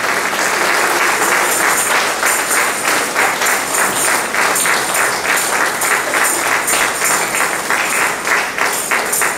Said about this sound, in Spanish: un fuerte aplauso al reconocimiento.